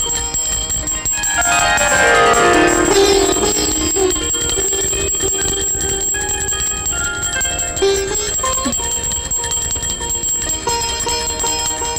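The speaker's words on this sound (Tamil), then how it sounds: "என்ன இந்த அலாரம் நிக்கவே மாட்டேங்குது?" A loud, sustained bell-like ringing from an alarm clock fills the first few seconds, then continues more faintly and steadily with tonal chiming throughout, no voices.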